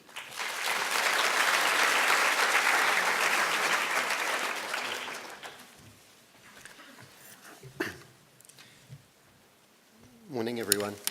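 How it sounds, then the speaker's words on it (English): Conference audience applauding loudly in a large hall for a plenary speaker, steady clapping for about five seconds that fades out, followed by quiet room noise and a few faint voices. "A round of applause, ladies and gentlemen, for Saul Levin."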